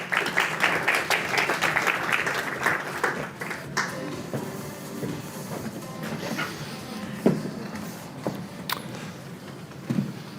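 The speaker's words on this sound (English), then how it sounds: "give them a warm round of applause" Audience applause for panelists at a security conference, dense clapping at first that thins into scattered individual claps and fades over several seconds, with a few louder isolated claps near the end.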